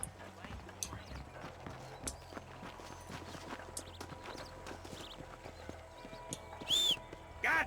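In the Red Dead Redemption game, horse hooves clop in a steady, fairly quick rhythm at moderate volume, with scattered background sounds and short bursts of voice near the end.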